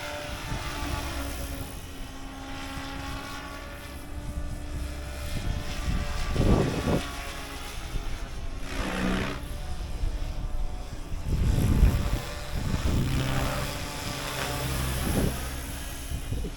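An RC helicopter practicing aerobatic loops whines steadily overhead with a rising and falling rotor and tail drone, growing louder in a few swells as it passes, heard outdoors at moderate distance.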